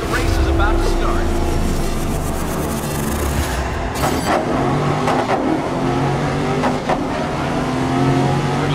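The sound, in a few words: racing car engines revving at race start in Grid 2019 video game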